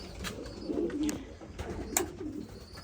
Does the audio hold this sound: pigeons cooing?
yes